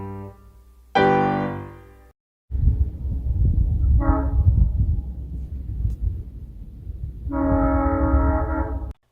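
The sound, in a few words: train horn and passing train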